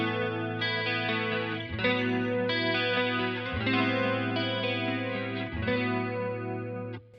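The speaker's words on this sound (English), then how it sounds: "the vintage chorus with the basic preset" Electric guitar chords played through a Kemper Profiler on a BOSS CE-1 vintage chorus preset, swirling and shimmering, with several strummed changes ringing steadily for about seven seconds, no voices.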